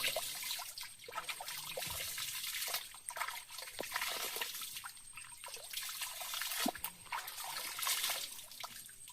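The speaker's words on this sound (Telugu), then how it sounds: "చాలా దాహం ఉంది కాబట్టి మనం వాటర్ అయితే తాగుతున్నాం." Cold forest stream water trickles and drips steadily in a wooded spot while people scoop and drink it, with small splashes and gurgles standing out against the soft flow.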